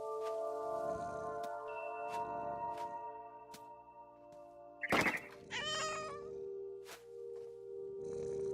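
A cat meows loudly a couple of times in What Remains of Edith Finch, over a steady tonal game soundtrack with soft thuds in between.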